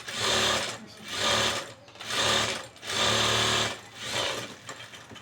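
A sewing machine runs edge stitching on blouse fabric in five loud, close bursts of rapid mechanical chatter, each about a second long, separated by brief pauses.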